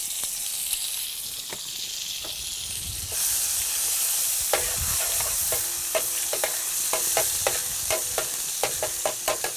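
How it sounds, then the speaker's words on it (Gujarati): Half a spoonful of garlic dropped into well-heated oil for a cashew curry, a quiet hiss that jumps to a louder steady sizzle, then sharp crackles and pops repeating ever faster, no voices. "તેલ મારું સારું એવું ગરમ થઈ ગયું છે। તો સૌપ્રથમ હું એમાં નાખીશ લસણ।"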